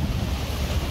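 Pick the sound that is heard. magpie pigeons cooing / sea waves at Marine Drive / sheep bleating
sea waves at Marine Drive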